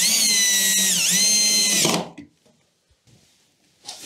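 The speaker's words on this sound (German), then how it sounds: "wir sichern sie hier oben mit der einen Schraube" Power drill driving a screw into the front panel of a Siemens washing machine, a loud, close whine that rises and dips for about two seconds before stopping, followed by brief faint handling sounds.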